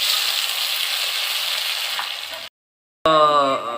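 Tomatoes frying in a pan with browned onions give a steady, close sizzle for a couple of seconds, then a brief silence, followed by a short bright tonal sound.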